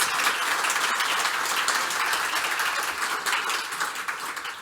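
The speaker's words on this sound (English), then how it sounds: "So if we can give you a round of applause" A conference audience applauds steadily, with a broad wash of many hands clapping that stays full for most of its length and begins to thin toward the end.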